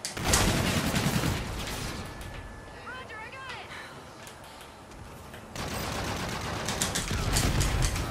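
Rapid bursts of gunfire in Call of Duty: Infinite Warfare multiplayer, loud and dense at the start and again near the end, with a quieter stretch in between where brief tonal chirps and a voice can be heard.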